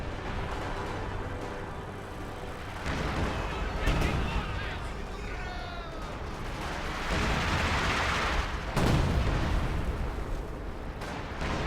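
Artillery barrages and heavy gunfire in a WWII strategy game, with British 17-pounder guns mixed in, sound as repeated booms and crackling bursts over steady battlefield rumble, with several louder impacts near the middle and end.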